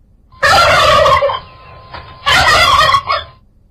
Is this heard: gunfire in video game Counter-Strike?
no